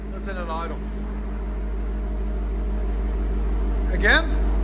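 A 2022 Dodge Durango SRT with the 6.4L 392 HEMI and a Borla ATAK cat-back exhaust idles in a steady, deep, even rumble, with brief voices over it at the start and near the end.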